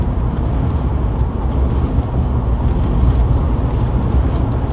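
Cadillac cruising on a windy Wyoming highway, a steady loud broadband roar of road and wind noise from inside the car, with no talking.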